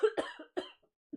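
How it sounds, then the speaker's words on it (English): A woman coughing, a quick cluster of three or four harsh, close coughs followed by a short pause and one faint final cough. "She's just coughing for a minute."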